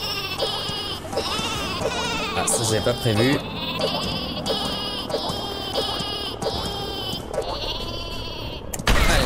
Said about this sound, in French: Un petit mouton.